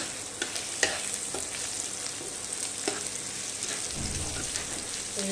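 Browning onions with a little salt stirred in a pan, a steady sizzle with occasional clicks and light scrapes from the spoon, fairly quiet and without talk.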